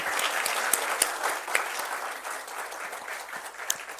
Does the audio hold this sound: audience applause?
yes